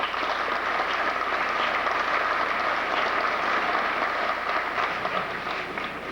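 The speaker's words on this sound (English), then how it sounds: "A round of applause for these two ladies" An audience at a 2004 graduation and awards ceremony claps steadily for two scholarship recipients, a dense, even wash of applause that holds at full strength from start to finish.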